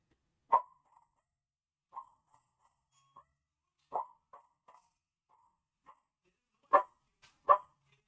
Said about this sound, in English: He's barking at the mailman.